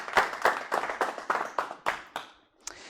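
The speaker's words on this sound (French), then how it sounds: "On peut applaudir Tony encore une fois." An audience at an awards ceremony claps in steady, even bursts that fade out near the end, with no voices over them.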